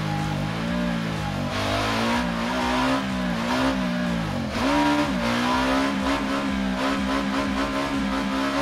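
A Ducati Diavel motorcycle engine revs hard while accelerating through the gears, loud and close, its pitch rising and dropping in repeated sweeps with shifts and a brief dip midway.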